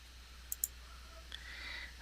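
A computer mouse gives two quick, faint clicks close together while setting up a Windows Server 2008 folder, with a low steady hum behind them.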